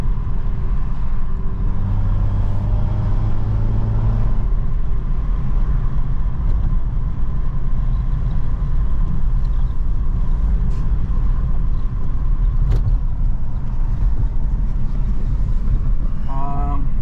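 A BMW F30 335i with a catless downpipe drives down a street, giving a steady, loud, low engine and exhaust drone with road rumble throughout and no talk.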